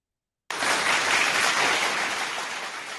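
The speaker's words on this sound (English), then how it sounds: "Let's get that round of applause for us being successful" A studio audience breaks into a loud, sustained round of applause that starts abruptly after a moment of silence and carries on steadily to the end.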